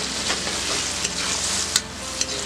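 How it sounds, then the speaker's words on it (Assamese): Sliced onions frying with garlic paste and crushed chilli in a pan, a close, continuous sizzle broken by a few sharp scraping stirs of a spatula. "এতিয়া পিঁয়াজখিনি আৰু অলপ এনেকৈ ভাজিব"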